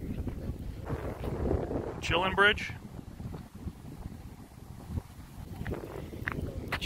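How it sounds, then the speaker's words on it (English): Wind gusts over a beach seawall, a steady rumbling buffet on the microphone with a person speaking briefly over it. "Getting a little windy over here."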